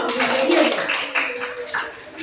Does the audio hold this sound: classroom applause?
yes